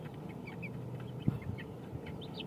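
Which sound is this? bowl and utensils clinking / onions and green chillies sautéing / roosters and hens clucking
roosters and hens clucking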